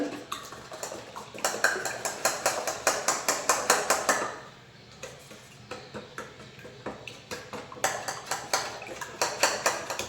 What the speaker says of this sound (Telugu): ఇలా ఎగ్ మొత్తం కలిపాను ఉప్పు కారంతో కలిపిన ఎగ్ ఇది